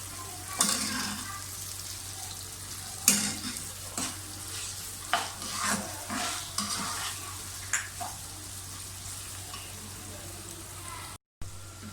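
Whole cumin and spices sizzle in hot oil with a steady frying hiss and intermittent stirring clinks, close by, with a short dropout near the end.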